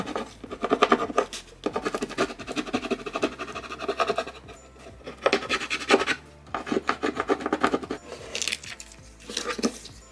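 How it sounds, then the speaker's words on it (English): A scraper tool rubbed firmly over a vinyl design cut on a Cricut Joy, rough rasping strokes in repeated bursts with short pauses between, close and loud with no talk. "I'm going to use my scraper tool and just hit over all the places."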